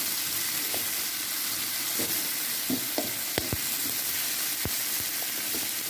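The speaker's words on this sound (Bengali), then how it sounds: "ভেজে নেওয়ার পরে চাদা মাছগুলো দিয়ে দিব।" Ingredients fry in a pan before chanda fish go in. A steady, close hiss of sizzling oil runs throughout, broken by a few sharp clicks of a utensil stirring against the pan. No one speaks.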